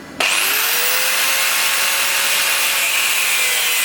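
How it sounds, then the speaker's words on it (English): A disc cutter bites into a workpiece clamped in a vise, starting abruptly and then holding a loud, close, continuous high-pitched grinding whine. "you can do what I'm going to do and cheat and use a disc cutter"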